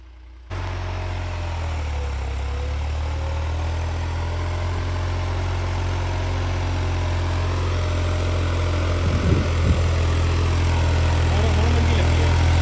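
A New Holland 3630 SE 4x4 tractor engine pulls a 15-tine cultivator, starting abruptly and then holding a loud, steady diesel drone with a deep low hum close by throughout.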